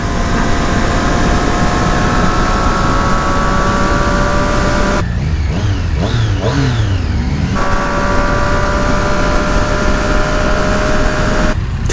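A 2018 Triumph Street Triple RS motorcycle on a demo ride gives a loud, steady engine drone with wind rush; the pitch drops and shifts briefly midway, as if during a gear change, before the steady note resumes.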